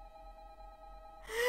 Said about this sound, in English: Please shut up, phone.